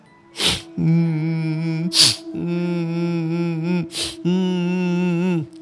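A voice imitates crying with drawn-out, wavering wails broken by sharp gasping breaths, loud and close with no other sound.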